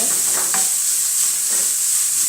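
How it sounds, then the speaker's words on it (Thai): Minced pork and shrimp stir-fry in a pan, with a steady close-up sizzle and a few scraping stirs of the spatula throughout. "พอกุ้งสุกเสร็จสับเรียบร้อยแล้วเอาหมูลงไปเนี่ย"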